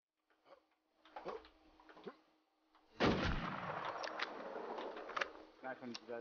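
Gunshots in a shooter game: a few sharp cracks early on, then a loud close blast at about three seconds followed by rumbling fire and clatter, with a voice speaking around them.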